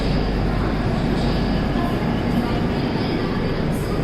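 Steady, loud broadband rumble of a train at a railway station on a dairy-town route, a continuous roar without distinct clatter, alone with no clear talking.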